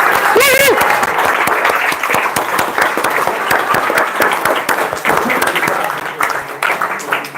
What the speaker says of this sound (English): Round of applause for our guests.